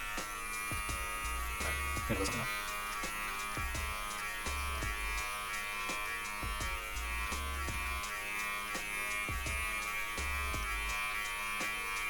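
An electric beard trimmer buzzes steadily up close, its high whine constant throughout with faint low thumps and shifts as it moves.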